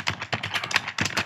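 Quick bursts of keystrokes on a computer keyboard, close and clicky, in short uneven runs with brief pauses.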